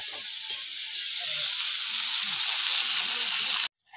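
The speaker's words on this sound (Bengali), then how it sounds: "মশলাগুলো কষে নিয়েছি দেখুন" Spices with garlic paste sauté in a pan for a chicken curry, producing a loud, continuous close sizzle with faint stirring underneath that cuts off abruptly near the end.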